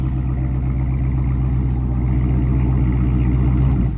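Dodge engine started remotely from a key fob, settling into a steady, close, moderately loud idle rumble with no talking.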